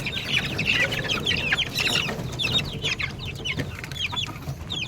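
Gamefowl crosses of gold sweater, Boston roundhead and claret bloodlines cluck and chatter in quick repeated bursts, several birds close by over a low rumbling backyard background, with no talk.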